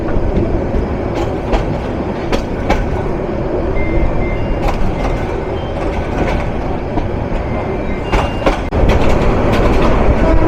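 Turag commuter train carrying office-goers in Dhaka toward Dhaka Cantonment station, a loud steady rumble of wheels on rails with rhythmic clickety-clack over joints and occasional brief metallic squeals, continuous throughout with no talk.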